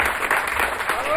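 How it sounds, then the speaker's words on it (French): An audience claps briefly at a tribute event, a dense wash of applause heard close and steady. "Ça s'applaudit."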